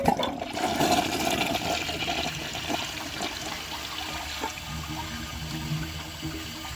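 A Mansfield Alto toilet flushes a washcloth and grocery bag, giving a loud, close rush of swirling water that settles into a steady trickle and refill.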